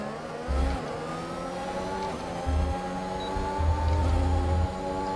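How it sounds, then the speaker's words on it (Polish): F1 car in the F1 2021 video game running with a damaged turbo, engine humming and revving unevenly with rough low thumps recurring through the clip, no talk. "Jadę klekotem bez turbiny."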